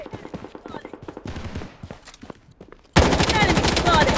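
Rapid automatic gunfire in the shooter game Blood Strike, with earlier scattered shots and game sounds under voiced callouts, then a loud, dense sustained burst of fire in the final second or so.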